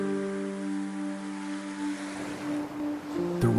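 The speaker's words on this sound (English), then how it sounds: "At this special geographic location, waves from both sides constantly clash" Sea waves wash and clash along a long gravel ridge where the Yellow Sea meets the Bohai Sea, a soft, continuous surf under sustained musical tones. A fuller surge rises near the end.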